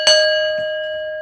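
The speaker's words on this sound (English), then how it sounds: "Let's ring the bell on that." A single bell is struck once, ringing out with a clear, bright tone that decays slowly over about a second, close and alone.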